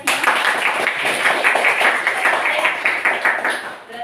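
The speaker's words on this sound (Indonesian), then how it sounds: "Beri tepuk tangan untuk kalian semua." A class of students clapping hands together in a classroom, a steady, fairly loud patter of many claps lasting several seconds.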